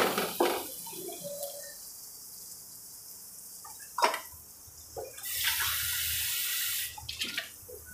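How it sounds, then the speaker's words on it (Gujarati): A glass of water is tipped into a pan of spiced spinach and gathiya curry with cumin, salt and red chilli, giving a close, steady pouring rush of a couple of seconds after a few light clinks and taps. "હવે એમાં આપણે 1 ગ્લાસ પાણી નાખીશું."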